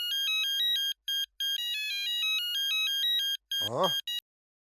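A melodic phone ringtone plays in repeated electronic phrases with brief gaps, then a short sweeping chirp before cutting to silence.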